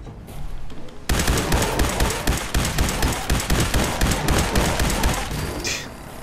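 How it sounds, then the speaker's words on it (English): Energy rifle in Fallout 4 fires in a rapid sustained burst, a dense loud stream of sharp crackling shots that starts abruptly and runs for several seconds without any voices. "This is my energy rifle."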